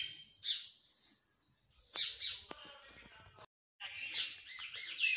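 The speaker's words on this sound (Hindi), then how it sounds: "आएंगे चिड़िया, उधर से आवाज़ दे रहे हैं, इधर से आवाज़ दे रहे हैं" Several birds chirp and call outdoors, overlapping bright tweets and trills from different directions, moderately close, with a brief pause before they resume.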